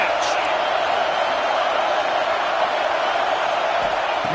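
A stadium crowd in a Madden football game roars at a steady, dense level during a third-down red-zone play, a continuous wash of cheering with no breaks.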